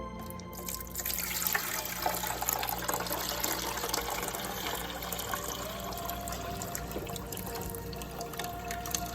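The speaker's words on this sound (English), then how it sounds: "So I'm going to pour it in here." Tap water pours steadily into an AeroGarden reservoir in a continuous, full splashing rush that holds from start to end.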